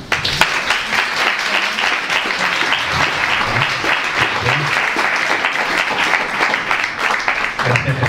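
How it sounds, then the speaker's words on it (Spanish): Audience applause at a Spanish-language science lecture on epigenetics, a dense, steady wash of many hands clapping, loud and sustained for the whole stretch with no pause. "Un aplauso."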